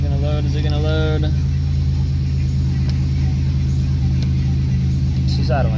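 Pontiac Grand Prix GTP engine with a new 3-inch downpipe idling steadily, a loud, deep, even rumble close by, with a voice speaking briefly over it.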